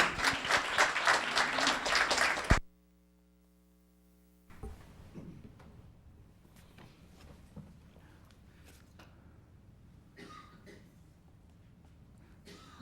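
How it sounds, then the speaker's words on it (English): Council meeting audience applauds the pledge leader, a brief burst of clapping about two seconds long that stops abruptly, followed by quiet room sounds, shuffling and a few faint knocks. "One more applause for our pledge leader."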